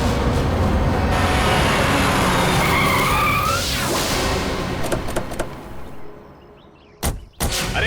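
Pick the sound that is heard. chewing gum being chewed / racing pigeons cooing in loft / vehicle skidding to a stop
vehicle skidding to a stop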